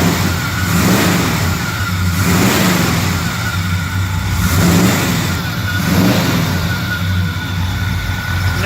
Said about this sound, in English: Go and rev her again.